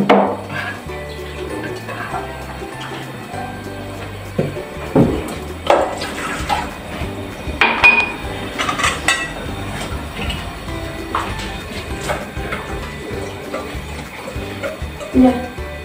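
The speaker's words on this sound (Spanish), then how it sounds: "Seguimos revolviendo para que este paso ya se haga una sopa espesa" A spoon stirs a thick peanut-thickened mixture in a pot for tamal de olla, giving intermittent scrapes and knocks against the pot over a steady background.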